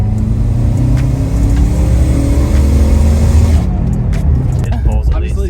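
A small car's engine revs and pulls hard under acceleration, a steady loud drone with rising harmonics that eases off near the end, heard from inside the car.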